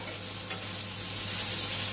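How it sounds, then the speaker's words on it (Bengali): Potatoes fry in a pan with whole garam masala spices, giving a soft, continuous sizzling hiss that swells slightly toward the end, fairly quiet and close with no voices. "4-5 মিনিট একটু ভেজে নিচ্ছি আলুগুলো।"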